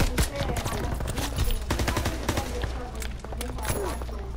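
A PPSh submachine gun fires in rapid, dense bursts in a first-person shooter, rattling loudly and nearly nonstop across the clip, with other gunfire and game sounds mixed in and no clear speech.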